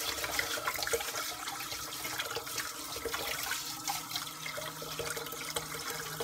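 Water running steadily over sushi rice as it is rinsed to wash out the starch, a continuous close splashing and rushing stream with no talk over it.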